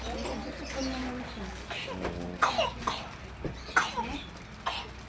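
A few short coughs break out near the mic, scattered over several seconds, with soft bird cooing and background murmur.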